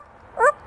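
A pet parrot imitates a dog's bark with a single short, yelping call, close and clear against a quiet room.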